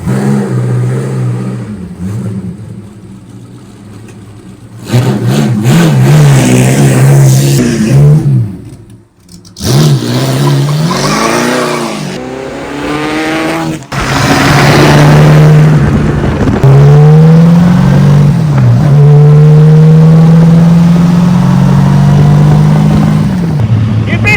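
A Pursang Type 35 Bugatti's engine revs loudly while driving, the pitch climbing and falling repeatedly through the gears with a brief lift off the throttle midway.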